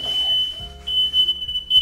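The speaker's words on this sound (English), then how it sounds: "That'll hopefully turn off pretty soon, the fire alarm, that is, or smoke detector, whatever." A smoke detector sounds a loud, steady high-pitched beeping tone indoors in an apartment kitchen after breakfast burritos were cooked in oil, running continuously with brief breaks and low background rumble beneath.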